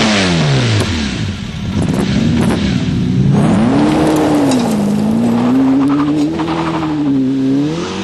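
Sports car engine bursting into life and revving hard, loud and close, the pitch dipping, then sweeping up and wavering through repeated blips, with a faint tire squeal.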